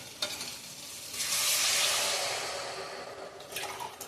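Water is poured into soaked rice in a pot for homemade vegetable biryani, four measures for two of rice. It is a soft, rushing pour that swells for about two seconds, with faint splashes before and after.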